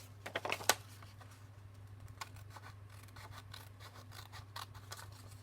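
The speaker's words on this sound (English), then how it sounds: "if I just get a pair of scissors" Ill-suited scissors snip through part of a paper envelope, with a quick burst of sharp close cuts at the start followed by sparser, quieter crisp snips.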